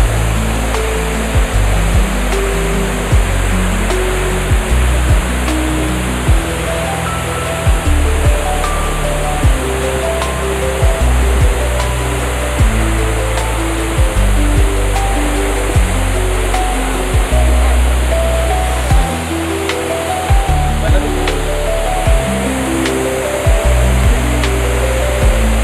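Dampalit Falls beneath Mt. Makiling pours in a loud, continuous rushing roar of falling water, close and steady, with occasional knocks and no voices.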